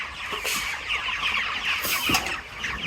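A flock of 27-day-old broiler chickens clucks in a poultry shed at night, a dense, continuous chatter of overlapping calls with a few louder squawks standing out, fairly close and without voices.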